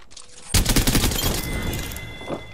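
Apex Legends gunfire erupts suddenly as a loud, rapid fusillade of close shots, then trails into a ringing, rumbling tail.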